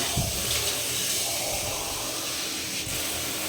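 Water runs continuously from a tap as items used in a home puja are rinsed, a steady broadband splash and hiss heard close, with no talking.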